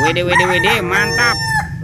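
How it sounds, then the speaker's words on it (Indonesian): A rooster crows in a loud, close, rising and falling call, with a cheerful voice speaking over part of it. "Wow, ini ada ayam berkokok."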